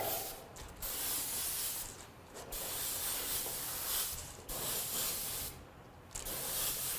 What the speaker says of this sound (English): just continue on randomly spraying this effect as we go to the back